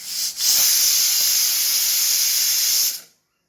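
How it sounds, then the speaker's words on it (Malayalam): A pressure cooker vents a loud, steady hiss of steam for about three seconds. A brief dip comes just before it, and it cuts off abruptly into silence. "ഇനി ഇത് കുക്കർ മൂടിയിട്ട് വെയിറ്റ് ഇട്ടിട്ട് ഒരു 5-6 വിസിൽ വരെ ഇതൊന്ന് വേവിച്ചെടുക്കാം."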